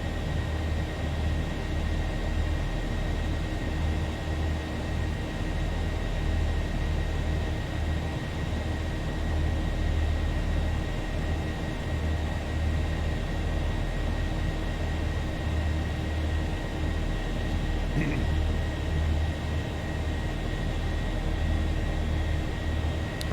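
Boeing 737-700 jet engines hold climb power in the X-Plane 11 flight simulator, a steady broadband roar with a low rumble that stays even and unbroken throughout.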